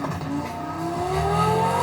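Lamborghini engine revving steadily and climbing in pitch, a loud close rumble with no talk over it, shown at a virtual car show.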